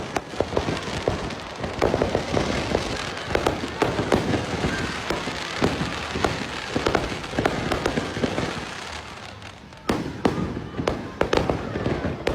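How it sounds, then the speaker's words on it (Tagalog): New Year fireworks burst repeatedly, with loud cracks and booms coming in quick, irregular succession over a steady crackling rumble. "Did you see the fireworks?"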